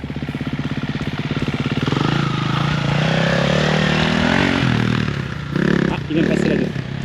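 A motocross dirt bike ridden by a learner just after shifting into second gear, its engine buzzing steadily and close with a rising pitch, while people talk over it.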